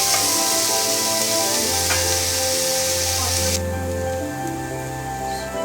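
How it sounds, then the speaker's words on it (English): Onions fry in a saucepan for a South Indian chicken curry, giving off a steady close sizzle with faint stirring scrapes throughout, growing slightly duller near the end, with no talking. "Give it a good little stir and let it fry till the onions become golden brown"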